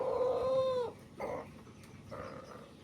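A rooster crows once indoors near a vegetable garden with okra in Potsin: a short, loud, tonal call that falls off at the end, followed by faint shuffling noises.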